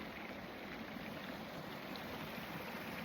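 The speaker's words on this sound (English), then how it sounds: "So we got the waterfall going over" A waterfall pours steadily beneath a bridge at an outdoor Colorado wedding venue, a constant broadband rushing wash heard close and unbroken, with no voices.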